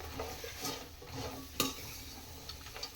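Spice powder frying briefly in a pan for a hotel-style vegetable kurma, heard as a faint, soft sizzle with light stirring scrapes and one sharper clink near the middle.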